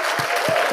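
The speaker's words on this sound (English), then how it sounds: "Give a round of applause" A church youth service audience breaks into applause, a short burst of steady clapping with faint crowd voices under it.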